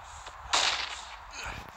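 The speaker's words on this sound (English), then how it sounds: "Okay, flash bang this way." A flash bang grenade goes off in a first-person shooter match, a sudden bright crack at mid-clip with a hissing tail, followed by faint game clatter and brief talk.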